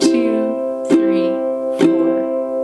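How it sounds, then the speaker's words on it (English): Ukulele played with four down strums, three bright chords clearly spaced and ringing out alone with no voice over them. "that leaves us with 4 down strums."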